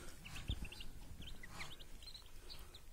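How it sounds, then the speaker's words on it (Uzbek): Newly hatched ducklings peep softly with repeated high chirps at an egg incubator, faint and close, with a low thump near the start. "Mana o'rdakchalar"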